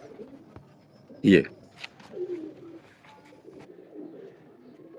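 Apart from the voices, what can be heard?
pigeons cooing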